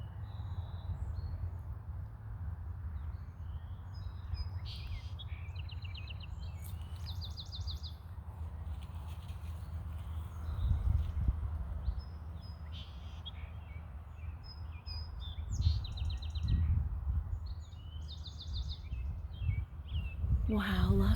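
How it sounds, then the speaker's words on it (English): Several different birds, including red-winged blackbirds, sing and chirp at a distance in a pond wetland over a steady low rumble of wind or distant traffic, with calls recurring through the stretch. "lots of different bird songs when you sit and listen quietly"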